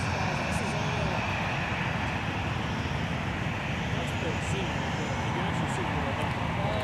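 A SkyWest-operated Delta airliner arriving at MSP airport from Memphis, a continuous dense engine roar with steady rumble, fairly loud and sustained throughout.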